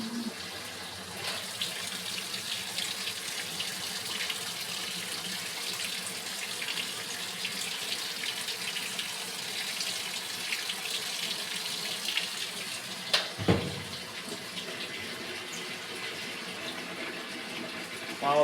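A GE top-load washing machine fills with water, a steady close rush and splash that continues throughout with a few brief clunks midway.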